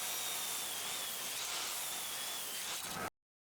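A power saw rips a quarter inch off a 2x4 board to square its edge, a steady loud whine held for about three seconds before cutting off abruptly.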